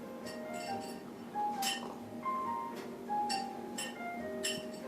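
A dog's metal breakfast bowl clinks and clanks indoors in the morning as the dog eats, with short, irregular bright taps scattered across the moment at close range and no talking.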